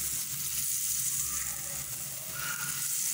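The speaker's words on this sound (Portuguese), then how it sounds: "Vou fritar essa carne. Fritar ela de um lado, fritar do outro." A hamburger patty frying in a pan, a loud, continuous close sizzle with crackly spitting texture throughout, no one speaking.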